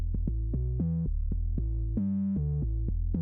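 A synth bass line for a Risk of Rain 2 style soundtrack plays alone: deep sustained tones stepping between pitches in a simple rhythmic pattern, clean and steady with no talking.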